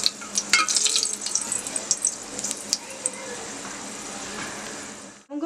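Whole cloves and cinnamon stick fry in hot oil for a mutton liver gravy, giving a steady close crackling sizzle with sharp spitting pops early on that settles into a constant hiss before cutting off at the end.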